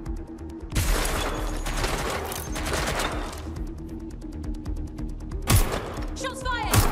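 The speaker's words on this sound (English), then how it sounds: "Shots fired!" Rapid bursts of automatic gunfire in Watch Dogs Legion, loud and close, with dense repeated shots, heavy thuds and a sharp burst near the end.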